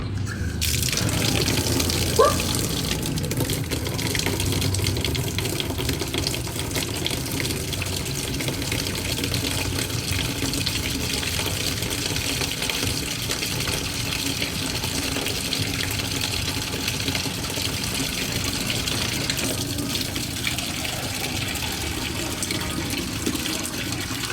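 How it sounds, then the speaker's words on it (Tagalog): Water runs steadily from a tap into a container for a long stretch, a continuous gushing fill sound with no talking over it. "Tapunuin muna natin ito ng tubig."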